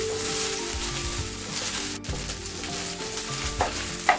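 Chicken pieces fry in hot oil until crispy for Thai basil chicken, a loud continuous sizzle up close with faint stirring and utensil sounds, no voices.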